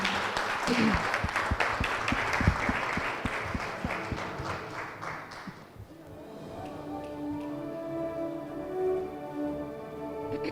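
An awards-ceremony audience applauds a cybersecurity start-up, a dense burst of clapping for several seconds that tapers off, leaving a quieter backdrop with music or tones underneath.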